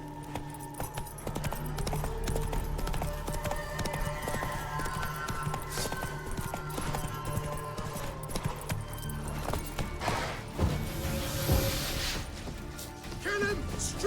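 Roach, the horse in The Witcher 3, trots along with a steady clip-clop of hooves over continuous game music and ambience, with a brief crash near the end.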